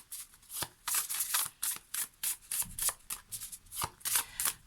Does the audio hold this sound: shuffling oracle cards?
yes